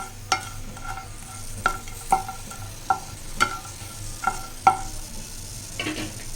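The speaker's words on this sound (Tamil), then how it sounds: "பாருங்கள் இந்த மாதிரி நல்லா பொரியணும்" Spices dry-roasting in a pan for rasam powder, faint crackling under a series of distinct metallic clinks and scrapes as a spoon stirs them, about eight sharp strikes at an irregular pace.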